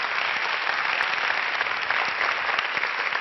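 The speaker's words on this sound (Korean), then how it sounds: "너무 큰 박수 감사합니다" Audience at a Korean lecture-stage talk applauding, a dense steady clatter of many hands clapping continuously, close and loud with no speech.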